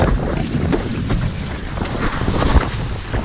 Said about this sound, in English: it's a lot of wind for this setup